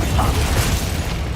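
Confringo fire spell cast in the Hogwarts Legacy video game, a short dense burst of blast and rumbling mechanical crackle filling the moment, loud and close with no talk.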